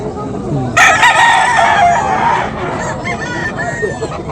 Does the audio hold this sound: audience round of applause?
no